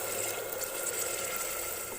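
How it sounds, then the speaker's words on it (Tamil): Water pours into a pan of ghee-fried macaroni while payasam is being made, giving a continuous close rushing and splashing sound that stays steady throughout. "இப்போ இதை நெய்யில் வதக்கிட்டு நம்ம இதில் 1 கப் தண்ணி சேர்த்து வேக விட்டுறலாம்."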